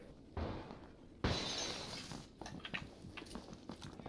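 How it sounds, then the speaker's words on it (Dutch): Glass shatters loudly as a player character leaps through a window in a video game, a sharp burst followed by a second heavier crash and scattered tinkling debris. "Je hebt vlak bij ons door het glas gesprongen."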